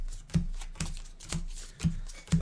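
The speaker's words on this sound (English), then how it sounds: "I still do this for every game where I have to shuffle my deck." Deck of cards shuffled by hand before an Arkham Horror card game, five soft evenly spaced riffling pulls about half a second apart, close and quiet with no talking.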